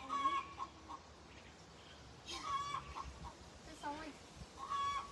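Village hens cluck and squawk in short repeated bursts, moderately close, over a quiet rural background.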